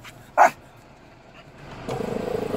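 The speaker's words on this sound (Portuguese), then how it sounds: "latindo pro cavalo" A dog barks once, sharp and close, from inside a car parked near a horse at a rural reservoir; afterwards the vehicle's engine rumbles steadily with no voices.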